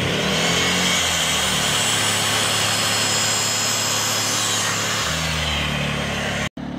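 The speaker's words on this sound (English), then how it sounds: "the old hunting generator coming in handy with the skill saw, making some minor adjustments here" An old hunting generator drones loudly and steadily while a Skil circular saw cuts notches in framing lumber outdoors, the harsh whine continuous for several seconds before easing back to the generator's hum and a brief cutoff at the end.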